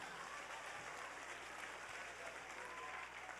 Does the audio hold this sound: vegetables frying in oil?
no